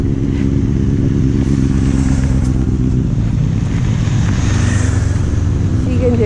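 Motorcycles keep arriving at the Pingüinos 2019 winter rally, engines rumbling and clattering continuously and loudly up close, with a crowd murmuring in the background.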